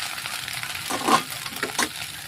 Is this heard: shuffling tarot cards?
no